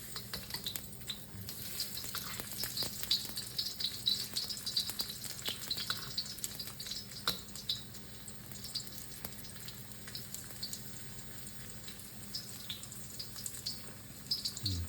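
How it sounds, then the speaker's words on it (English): Ginger browning in hot oil in a wok gives a steady close sizzle and crackle for the whole stretch, with occasional stirring scrapes and light clinks. "Infusing the oil and browning the ginger."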